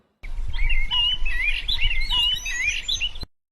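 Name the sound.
birds chirping in a cartoon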